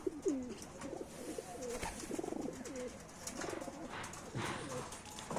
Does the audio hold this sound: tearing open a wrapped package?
no